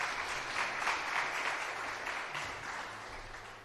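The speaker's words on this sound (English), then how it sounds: "So let's give him a round of applause." An audience at a fireside chat event for the Dads Caucus applauds a congressman, a faint, distant wash of clapping that holds steady and then gradually thins out.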